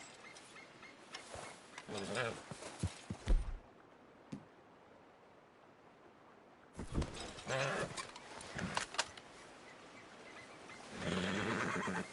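Horse whinnies in Red Dead Redemption 2 ring out in two loud bursts separated by a quiet pause, with some clopping and faint background noise.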